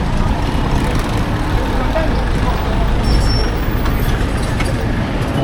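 Busy Naples street traffic rumbles along steadily, cars and heavier vehicles passing close by in a continuous low roar with a brief high brake squeal.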